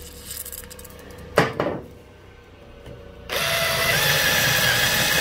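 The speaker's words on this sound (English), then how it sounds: "Real-time drill sharpening." A drill bit is sharpened against a grinding tool in a workshop: a brief scraping rasp and some clatter, a quiet pause, then a steady loud whirring grind that continues to the end.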